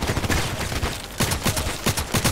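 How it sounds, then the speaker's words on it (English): Gunfire in the Contract Wars video game, a rapid series of sharp, loud shots in quick bursts with a brief lull in the middle. "He's shooting one time and everybody's falling."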